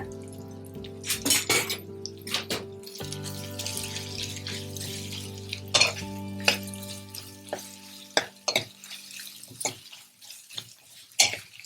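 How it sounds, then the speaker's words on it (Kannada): Fenugreek seeds and cloves fry in a small amount of oil in a pan, giving a close crackling sizzle with sharp pops and spatters, plus clinks of a spoon against the metal. "ಈಗ ಇದನ್ನು ಒಂದ್ಸಲಿ ಫ್ರೈ ಮಾಡ್ಕೊಬಿಡೋಣ"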